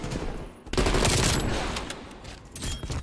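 Rapid burst of gunfire from a sniper rifle quick-scope shot in Black Ops Cold War, loud and close, with a sharp crack followed by rolling echo and trailing shots in a busy multiplayer lobby.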